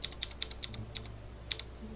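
Computer keyboard keys pressed during a Kerbal Space Program session: a run of sharp, close clicks in irregular bursts, about eight distinct taps with short pauses between them and a low steady hum underneath.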